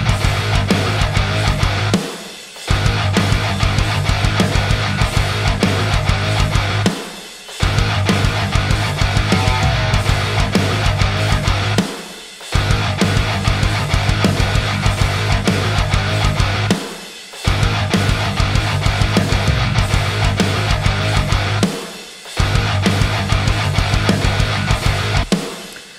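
Dense, distorted modern metal mix with sidechained guitars and drums playing continuously, snare hits cutting through, interrupted by brief silent gaps every few seconds.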